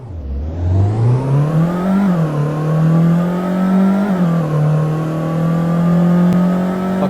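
A four-wheel-drive car in a Roblox game pulls away from a standstill, its loud engine revving up steadily and holding a high droning pitch with brief dips at gear shifts.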